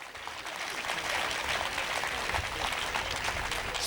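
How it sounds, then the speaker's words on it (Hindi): Audience clapping to welcome guests at the Karachi Literature Festival 2015, a broad continuous wash of applause from a large crowd that swells slightly and holds steady and fairly loud. "इन दोनों को आप वेलकम करें तालियां बजाकर कराची के लोग"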